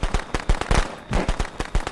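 Fireworks going off in Friday the 13th: The Game, a rapid crackling string of sharp pops and bangs, loud and close, bursting in uneven clusters with no talk.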